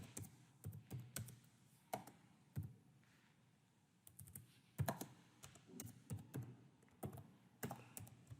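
Computer keyboard typing, quiet and close: short bursts of key clicks separated by brief pauses, with no voices.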